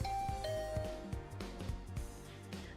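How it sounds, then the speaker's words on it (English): Doorbell chime rung at a dormitory room door in a Japanese visual novel game, a clear ding-dong tone sounding over steady background music with no talk. "I rang the doorbell to Tsubasa's room."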